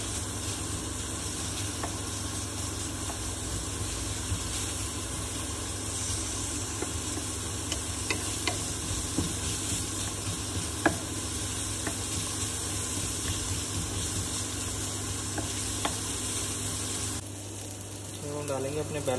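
Makhani pasta is stir-fried at a street food stall in Hoshiyarpur, India, with loud, continuous sizzling and the scrape of stirring close by, and a brief dip near the end.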